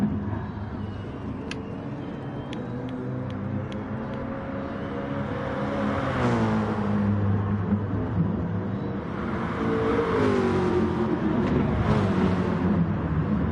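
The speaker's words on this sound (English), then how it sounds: "Driving nicely in the AMG." Mercedes AMG GT3 race car engine in a Gran Turismo-style racing game at Dragon Trail Seaside, a steady droning engine note with rising revs and gear changes, continuous and moderately loud.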